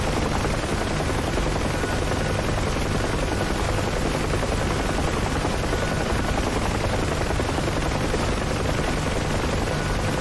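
A Huey helicopter lands at an airport in a VR flight game, its loud rotor and engine noise forming a constant dense roar with a rapid thumping texture throughout, no voices.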